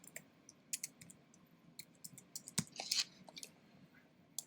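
Text typed on a computer keyboard, sparse faint key clicks in an irregular rhythm, close but quiet, with no one speaking.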